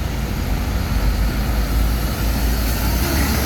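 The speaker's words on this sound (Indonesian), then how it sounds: "Wah, knalpotnya mantap." A luxury-class bus with a loud aftermarket exhaust roars past on a road, a dense low rumbling engine drone that stays steady and close throughout.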